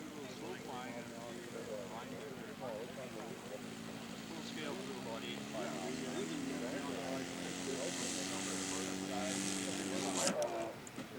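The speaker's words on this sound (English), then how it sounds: "And Gus is in position for his takeoff." A scale model aircraft powered by an OS 160 engine buzzes steadily as it rolls for takeoff, its droning tone rising and getting louder toward the end, with a voice talking over it.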